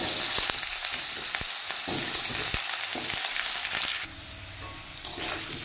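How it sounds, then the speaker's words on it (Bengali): Potatoes fry in oil in a wok, giving a loud, steady sizzle with a few sharp spatters and stirring knocks. The hiss drops slightly near the end, then continues without any talk. "এখন কড়াইতে তেল দিয়ে আলুটা ভেজে দেবো লাল লাল করে।"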